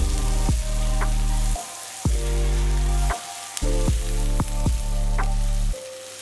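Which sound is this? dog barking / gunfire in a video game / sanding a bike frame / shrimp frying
shrimp frying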